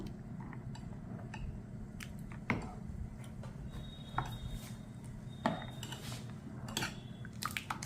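Utensils clinking and scraping against a pot as Mappillai Samba rice porridge ingredients, including shallots, buttermilk, fenugreek and garlic, are stirred, with a few sharper knocks over a steady background hum.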